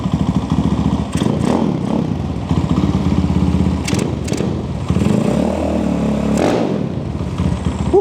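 Honda C50 motorcycle with a swapped engine and loud aftermarket exhaust revs up repeatedly close by, a raspy, popping single-cylinder snarl that climbs and drops in pitch over a steady idle.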